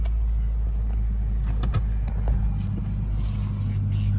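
A straight-piped 5.7 HEMI V8 rumbles deep and loud from inside the car while driving, a steady low drone with a slight swell partway through and faint voices underneath.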